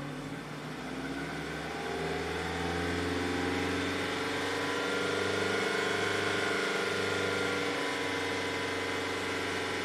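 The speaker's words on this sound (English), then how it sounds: "Let's raise the RPMs up." Hyundai car engine held at raised RPM, a steady close hum with a slight rise in pitch and no talking.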